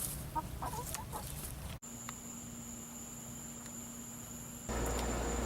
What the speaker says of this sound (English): our neighbor's chickens stayed through Irma and are doing just fine